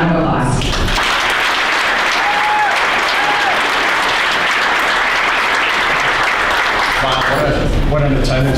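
A large crowd at an awards evening applauds loudly and steadily for several seconds. A voice is heard briefly at the start and again as the clapping dies down at the end.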